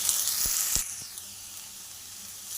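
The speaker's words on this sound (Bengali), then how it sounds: "আলুটা একটু নেড়ে চেড়ে ভাজা হয়ে এসছে, একটু লালচে লালচে হয়েছে।" Potatoes fry in a pan during home cooking, a bright sizzling hiss that fades after a moment, with a few quick taps of a spatula early on and a quieter simmering crackle after.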